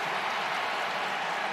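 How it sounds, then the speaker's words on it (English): A football stadium crowd at the Indiana vs Ohio State Big Ten Championship game roars in a steady, dense wash of cheering and applause with no clear breaks. "Listen to this crowd."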